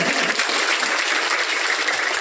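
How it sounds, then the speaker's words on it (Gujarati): An audience at a village gathering claps to welcome a guest official, a dense, steady wash of applause from many hands throughout. "આપણે એમને જોરદાર તાળીઓથી પહેલા વધાવીએ"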